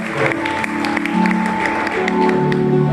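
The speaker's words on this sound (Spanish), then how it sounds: "Un aplauso al Señor" Congregation clapping during a Haitian wedding celebration held in the Dominican Republic, with sharp claps riding over sustained keyboard or organ music that plays steadily underneath at moderate volume.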